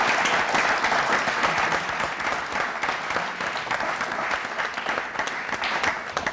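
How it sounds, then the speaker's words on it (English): A studio audience at a science quiz show claps loudly and continuously, many hands in a thick, sustained round of applause with no break. "Let's give them a big round of applause."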